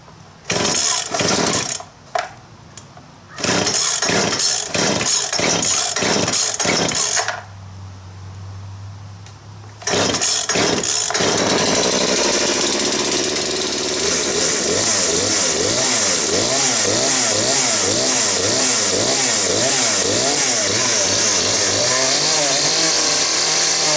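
A Poulan chainsaw with a carburetor problem, choke on, is pulled several times with sharp rattling cranks, then fires and runs loudly, its engine revving up and down in repeated rising and falling surges.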